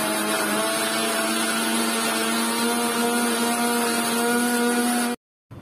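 A mixer grinder whirs loudly and steadily, grinding onion with cashews and poppy seeds for a chicken korma, its motor whine unbroken for about five seconds before cutting off abruptly.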